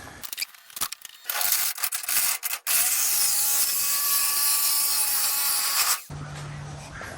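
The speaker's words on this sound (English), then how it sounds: "I'm gonna go use my jigsaw and just stay along that line." A jigsaw cuts along a marked line through a wooden panel for a DIY cargo box on a Ford F150 camper, a steady loud rasping buzz running for several seconds after a few short starts, then stopping abruptly.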